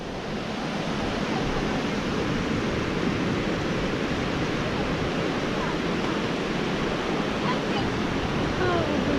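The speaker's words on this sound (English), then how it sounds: "Dope shot of the waterfall." A waterfall in Croatia rushes in a dense, steady roar of broadband noise that stays constant and fairly loud throughout, with no pauses.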